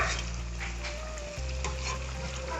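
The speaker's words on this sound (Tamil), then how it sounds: "நல்லா எண்ணெய் சூடாயிருக்கும். அடுப்பை குறைச்சி வச்சு போடுங்க." Jackfruit fritters sizzle and crackle steadily in hot oil, close and continuous, with faint stirring or utensil sounds and no talking.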